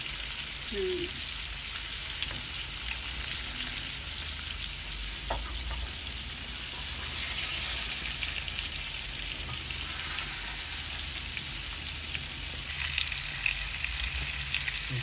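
Fish frying in oil in a pan, a steady broad sizzle and crackle running throughout with occasional faint stirring clinks, no speech.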